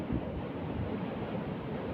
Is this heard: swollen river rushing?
yes